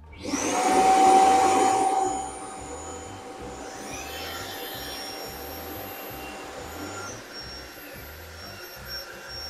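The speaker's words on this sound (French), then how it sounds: "on a le balai aspirateur qui se met en route, qui propulse de l'air, plus la base qui aspire." A SwitchBot K10+ Pro Combo stick vacuum runs with its base suctioning, surging loudly for about two seconds, then settling into a steady, quieter whirring hum that continues to the end.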